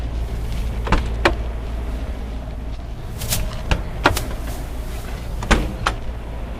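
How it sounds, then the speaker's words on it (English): Storage compartment doors on a 2020 Newmar New Aire 3545 motorhome are opened one after another, giving sharp latches and thumps over a steady outdoor hum, with no talking. "I'm just going to go down and open all these compartments"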